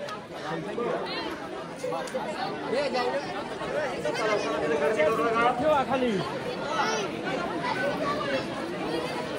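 Dense crowd chatter from a packed temple darshan queue, many overlapping voices forming a steady, close babble throughout.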